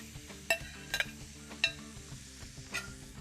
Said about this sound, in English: I'm now adding my onion and my chili.